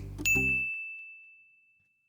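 A single bright notification-bell ding rings out clearly after a brief burst, its pure tone sustaining and slowly fading over about two seconds with nothing else around it.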